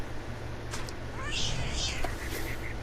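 A cat meows in the video game What Remains of Edith Finch, a couple of short rising mews over a steady low ambient hum, with faint game sounds around them.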